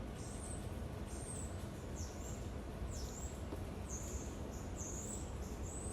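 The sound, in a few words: birds chirping outdoors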